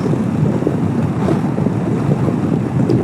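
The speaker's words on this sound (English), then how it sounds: "It's windy." Strong wind buffets the microphone in a continuous low roar while motorcycle riding near the Georgia state line, steady and loud throughout with no voices.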